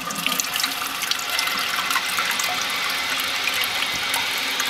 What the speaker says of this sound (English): And let the tank fill up.